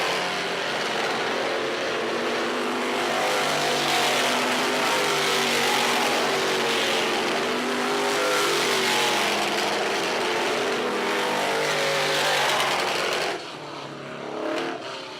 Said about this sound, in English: Checker flag out, hot lap session number 2 for the Sportsman.